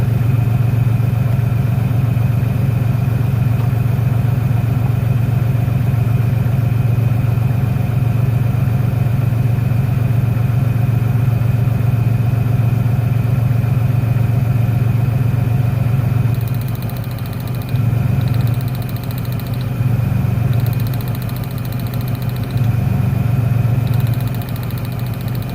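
A Ford Ranger V6 3.0L engine idles at close range with one cylinder's ignition cable disconnected, a steady low drone whose rhythm turns uneven and pulsing partway through.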